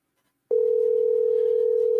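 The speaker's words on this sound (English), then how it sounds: "Dial tones." A steady, loud telephone dial tone starts abruptly after a short silence and holds unbroken to the end.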